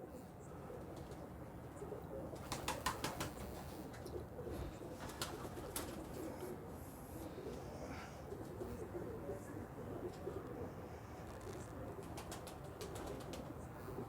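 A Shaheen and Taar crossbred female pigeon gives soft, low, rolling coos against a murmuring background, while someone talks nearby and brief rustles or flutters break in.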